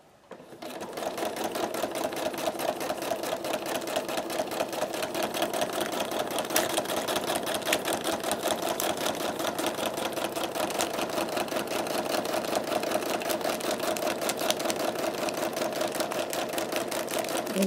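A sewing machine quilting fabric for a picnic quilt runs steadily and loudly for the whole stretch, its rapid needle stitching forming a continuous mechanical chatter with no pauses or talk.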